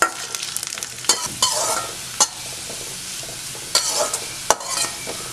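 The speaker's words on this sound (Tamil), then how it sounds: "நம்ம கட் பண்ணி வச்சுருக்கிற பெரண்டையை போட்டு ஃப்ரை பண்ணி எடுத்துக்கலாம்" Chopped pirandai (adamant creeper) frying in a pan for a Tamil chutney, with a steady close sizzle broken by several sharp scraping stirs of a spatula against the pan, no voices.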